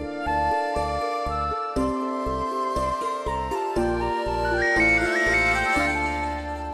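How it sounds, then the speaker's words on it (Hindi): A phone ringtone plays a bright, repeating electronic melody, steady and clear with no voices over it. "पाठी जी का फोन आ गया।"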